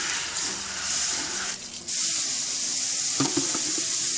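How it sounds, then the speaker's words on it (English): Raw beeswax is washed in water by hand, with continuous close splashing and running-water noise, a brief dip, then renewed sloshing and a few sharper splashes. "I'll give it a very good wash through, breaking it up as much as possible."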